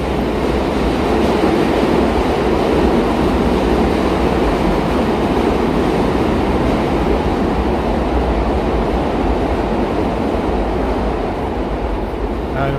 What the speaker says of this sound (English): And we hear the trains, the train line, subway line is down there.